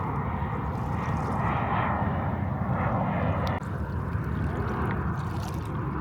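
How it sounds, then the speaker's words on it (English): Airliners coming in to land over the bay at Coyote Point, San Francisco, a steady distant jet roar that stays fairly constant throughout, mixed with outdoor ambience. "aircraft from all over the world glide silently over the bay, their landing gear down"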